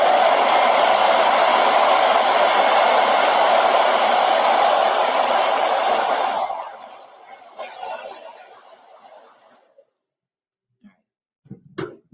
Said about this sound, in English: I'm going to hit it with a dryer just to make sure that the paint is dry